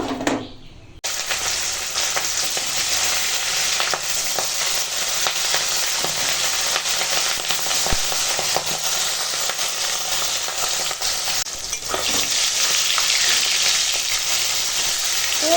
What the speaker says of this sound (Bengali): এখন মাছগুলো এপিটিপিট করে ভাজা হয়ে গেছে